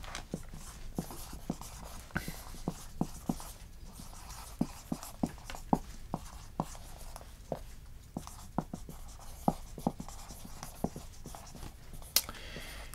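A pen scratches across paper in short, quick strokes, a soft, close scraping with frequent small ticks and taps, steady and unhurried throughout, with no talking.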